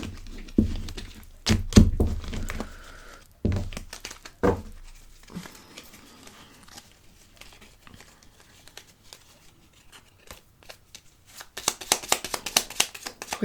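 Tarot cards being handled and gathered up by hand, with papery shuffles, soft thunks and crinkling in uneven bursts, busiest near the start and again toward the end, with quieter stretches of light rustling between.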